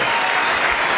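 A brief, dense burst of crowd applause at the State of the Union address, loud and even throughout, with no talking over it.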